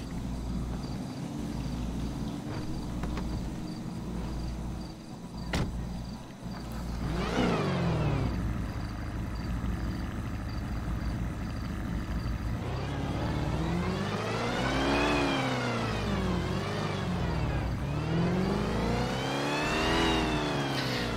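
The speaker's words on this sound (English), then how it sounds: "You can hear the supercharger." A supercharged Dodge Hellcat with a custom muffler revs hard in GTA 5 at a Fourth of July car show, loud rising and falling engine sweeps with supercharger whine over a rumbling idle, several throttle blips one after another.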